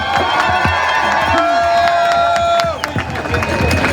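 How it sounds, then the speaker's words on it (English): A loud crowd cheers and whoops at an outdoor protest rally, with scattered clapping underneath; a sustained tone cuts off midway as the cheering continues. "Big round of applause for Menno"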